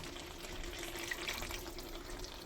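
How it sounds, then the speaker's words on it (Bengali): A little water is poured into a pan of cooked jackfruit masala, a steady soft watery pour with a faint splash, close by and alone. "এবার একটুখানি জল দেব।"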